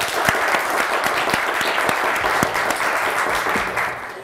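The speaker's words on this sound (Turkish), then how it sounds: "Daha kuvvetli bir alkış hak ettiler." Dense audience applause during a Turkish TV word-game show, steady sustained clapping throughout at close range with no talk.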